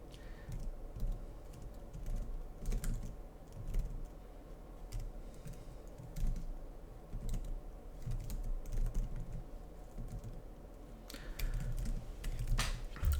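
Typing on a computer keyboard, with irregular bursts of key clicks over a steady low background hum, fairly close and moderately quiet, with no voices.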